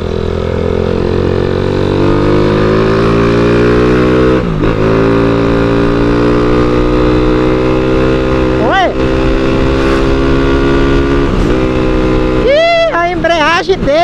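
A 160cc motorcycle engine with a 65.5 piston, carburetor and alcohol fuel runs loud and close at high revs, holding a sustained rising drone before dropping in quick blips and swooping revs toward the end.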